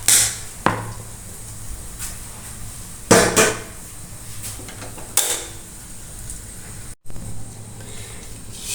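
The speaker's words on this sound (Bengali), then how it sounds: "আমরা ঢাকনাটা তুলে দেখি কেমন" A lid is lifted off a pot of freshly popped corn with metallic clanks and scrapes at intervals, over a low background hum.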